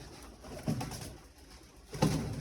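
Pigeons kept indoors in a room give low, soft coos, two fuller bursts rising above a steady murmur of cooing and rustle, fairly close with no talk.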